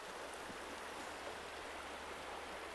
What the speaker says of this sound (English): This is the beautiful Verde River coming through just out near the outskirts of the town Rio Verde.